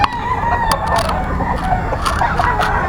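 A young stag rooster crows repeatedly amid the busy clucking and calls of other fowl at a Bocaue gamefowl market, fairly close and loud, with scattered sharp background sounds.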